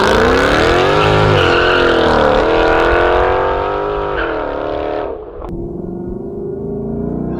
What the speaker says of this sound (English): So this is a Corsa exhaust